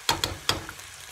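Garlic dropped into a hot pan with pork and onion, giving two or three quick crackling sizzle bursts over a low steady frying hiss, close and without talk.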